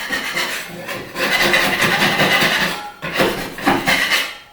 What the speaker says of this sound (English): Once again, scrape it all out.